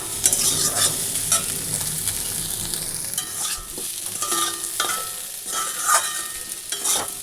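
Cauliflower and potatoes frying in a little oil in a pan, a steady close sizzle broken by repeated stirring scrapes, with no talk.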